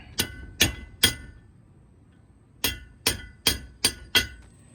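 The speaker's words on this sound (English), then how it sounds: "probably have to go to a heavier hammer here." Heavier hammer striking a brass punch to seat a brake race during a truck brake overhaul: three sharp metallic blows, a pause, then five more in quicker rhythm, each ringing briefly and close up.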